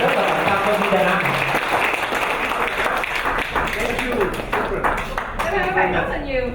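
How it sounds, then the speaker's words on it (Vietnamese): An audience at a flower workshop in Dalat claps in a sustained, dense round of applause, fairly loud and close, with a voice speaking over the clapping. "Xin các bạn cho một tràng pháo tay của chuyên gia chúng ta."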